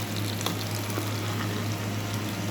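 Hot oil tempered with mustard seeds and urad dal poured into onion chutney, a steady close sizzle and crackle with faint pops, constant for a couple of seconds.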